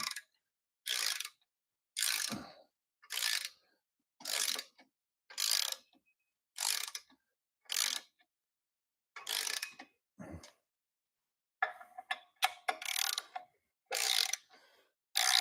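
A ratchet wrench snugs down the clutch pressure plate bolts against the flywheel of a Toyota 1MZ engine, giving about a dozen short, evenly spaced clicking bursts that speed into a quicker flurry near the end.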